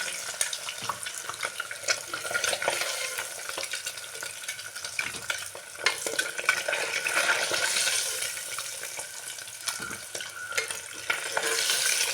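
Eggs frying in a pan for egg curry, a steady crackling sizzle with scattered spoon scrapes and clicks as they are lifted out.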